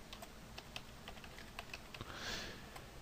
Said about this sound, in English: So we'll type in Henderson.